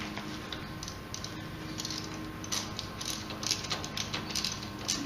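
A socket wrench tightening a spark plug back into a John Deere L130 riding mower engine, a run of quick, light ratchet clicks repeating steadily at close range.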